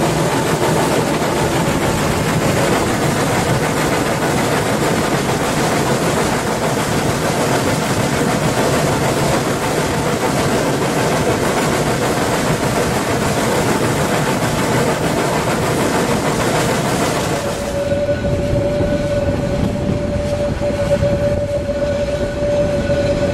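Loud, continuous rumble and chuff of a steam locomotive working hard nearby in Germany for a long stretch, then the noise drops away leaving a steady whistle-like tone.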